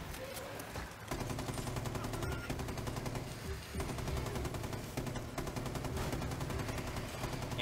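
Sustained LMG fire in Rainbow Six Extraction, a rapid, unbroken automatic stream of shots with a brief pause near the start, loud and dense throughout.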